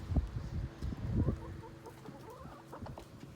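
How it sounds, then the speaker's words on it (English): Hens cluck softly nearby in short, irregular bursts, with a few higher calls mixed in. "So let me feed these to my chickens."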